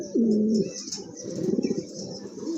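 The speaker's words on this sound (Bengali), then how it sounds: "এটা হচ্ছে আপনার নট কবুতর" Pigeons of the knot breed coo in a loft where one bird is sitting on an egg, one long low coo near the start followed by softer repeated cooing, close and alone without talk.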